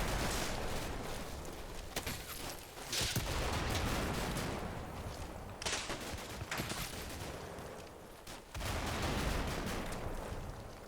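Ukrainian suppressive gunfire rattles in the Combat Mission: Black Sea war game, with dense overlapping bursts of rifle and machine-gun fire and some heavier thuds rolling on in the distance for several seconds.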